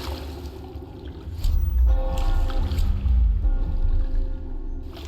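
A motorboat driven in the video game Dishonored gives a low, throbbing engine rumble that swells and holds steady, with watery splashing and a faint tonal hum over it.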